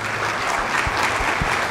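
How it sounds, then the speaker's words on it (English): An audience at a school-system sports event applauds its honored students, with a full and steady wash of clapping throughout and a few low thumps underneath. "So give them a round of applause"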